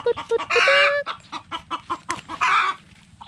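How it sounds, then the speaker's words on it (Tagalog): A hen clucks close by before laying an egg: a quick series of short clucks broken by a couple of louder, drawn-out squawks, in a rural farm setting. "Kapag gumaganon daw yung manok,"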